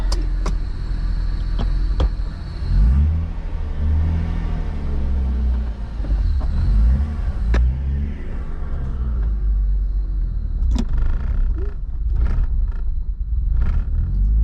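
A turbocharged BMW E36 M3 engine pulling away and driving, a continuous deep rumble with shifting engine tones and a few clicks and knocks from the cabin, close and fairly loud with no talk.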